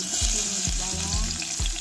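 Onions frying in hot oil in a pot for goat-meat tongseng, a steady loud sizzle with a few soft stirring knocks, no voices.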